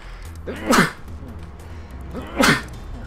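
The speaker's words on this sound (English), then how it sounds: "Oh, I'm gonna sneeze." A person sneezes twice, each a sharp breathy burst about two seconds apart, close to the microphone with quiet room noise between.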